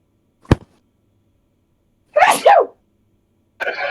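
A single sharp human sneeze bursts out at close range, followed after a pause by two brief bursts of nearby speech.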